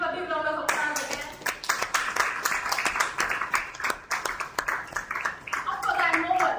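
Audience clapping at a live entrepreneurship panel discussion, a dense burst of applause from many hands starting abruptly and holding steady, with voices mixed in over it.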